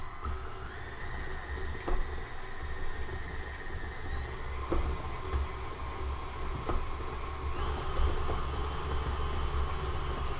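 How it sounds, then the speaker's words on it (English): A stand mixer creaming butter and sugar whirs steadily and loudly with a rattling, rumbling motor drone and occasional clacks, no talking over it. "Now I'm doing this in my stand mixer, so it might get a little bit loud in a second,"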